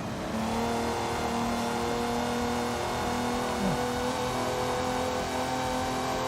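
An American muscle car's engine drones and revs in Forza Horizon 5, a loud continuous in-game engine note holding steady with a slight pitch dip midway, no talk over it.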